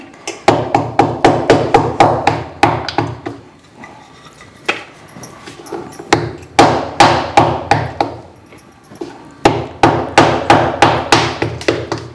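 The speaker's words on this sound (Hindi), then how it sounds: "तो ये है गुड़, इसको कूट के सिर्फ इसमें करके लड्डू बनाएंगे। इसको कूट लेते हैं।" Jaggery being pounded for laddoos, sharp rapid thuds struck close and loud in quick bursts of about a dozen blows, separated by short quiet pauses.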